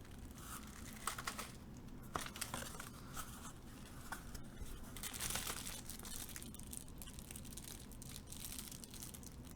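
A plastic bag stuffed with keyboard keycaps is handled continuously, giving steady close crinkling and rustling with small clicky crunches scattered throughout, no talking.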